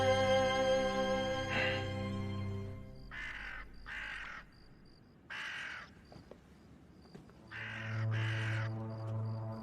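Crows caw at night in a period drama, several harsh calls in short bursts over a steady low musical drone, fairly close and clear with no voices.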